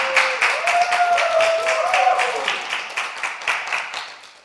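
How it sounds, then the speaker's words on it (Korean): A church congregation applauds during a service, a mid-distance patter of hands that swells and then thins out, with a faint voice or tone drifting underneath. "박수 한번 보내주십시오"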